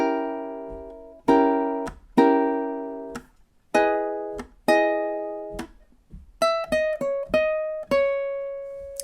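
Ukulele plays measures 13 to 16: plucked chords that ring and fade, then a run of quick single melody notes, close and solo.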